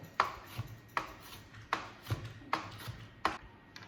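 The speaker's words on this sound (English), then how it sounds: "Now I chop fish, shrimp, and scallop a little bit" A knife chops fish, shrimp and scallop on a cutting board in a home kitchen, giving about six sharp, evenly spaced thunks close by with no talking.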